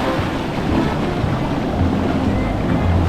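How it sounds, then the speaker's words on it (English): Strong surf on a Mexican beach, a steady broadband roar of crashing waves with wind buffeting the microphone, loud and continuous throughout. "those are some really strong waves."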